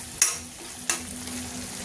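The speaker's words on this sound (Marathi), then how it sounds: "आता हे मसाले टाकून चांगले परतवून घेऊया." Spices stirred into masala frying in a pan for dhaba-style dum aloo, two sharp scraping clinks of the spoon against the pan over a soft, steady sizzle, close and fairly quiet.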